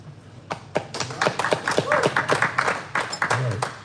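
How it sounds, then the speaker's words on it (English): Audience applause at the December meeting of the Fredericksburg Area Woodworkers Guild, a burst of claps and taps that swells and runs steadily for several seconds, fairly close and moderately loud. "Applause."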